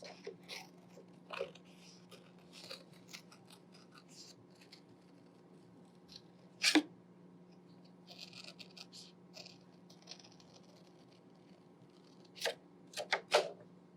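Scissors snip out paper firefly wings in a quiet room, a few sparse, sharp close cuts scattered over a low steady hum, with a cluster of snips near the end.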